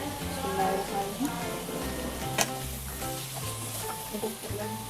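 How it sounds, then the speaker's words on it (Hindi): Okra slit lengthwise goes into a hot pan of achari masala, giving a steady broadband sizzle with light stirring scrapes throughout, close and moderately loud, with no speech. "3 हमने भिंडियाँ इस तरह कट लगा के वो भी डाल देंगे।"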